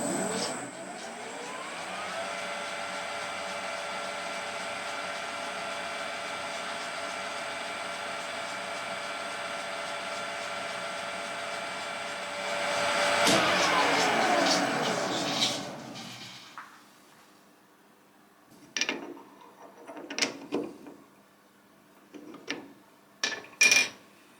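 A lathe reams a bore in a machined metal part for a high-gain 122 GHz radar antenna, giving a steady whining hum that swells briefly, then winds down and stops, followed by a few sharp clicks and taps.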